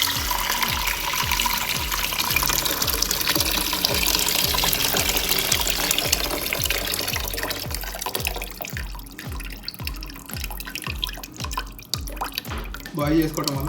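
Kettle-boiled water poured into a pot of rice, a rapid, regular run of glugging splashes over several seconds, then quieter trickling and clatter as the pour ends, with a voice talking over parts of it.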